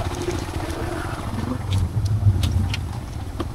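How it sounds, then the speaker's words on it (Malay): A motor that has just been restarted runs with a steady low rumble, moderately loud and close, with a few sharp clicks and knocks over the drone and no talking. "Oh lah. Motor hidup start lagi."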